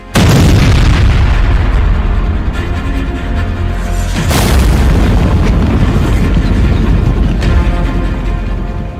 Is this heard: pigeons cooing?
no